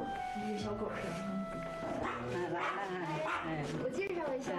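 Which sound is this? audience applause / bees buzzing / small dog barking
small dog barking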